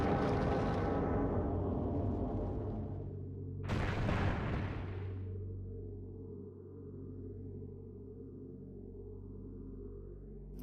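A super missile fired in the Metroid Prime video game, a fading tonal rumble followed by a single sharp blast that decays into a low droning hum, moderately loud and alone.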